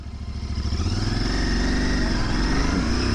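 A Royal Enfield Continental GT 650 pulls away in first gear, its parallel-twin engine thumping in a fast rhythmic pulse that rises in pitch as it revs, loud and close.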